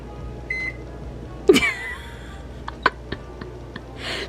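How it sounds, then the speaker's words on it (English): A kitchen microwave oven showing a fail error gives a few short electronic beeps amid clatter and handling noises in a trailer home, with a quiet voice nearby. "our microwave says fail"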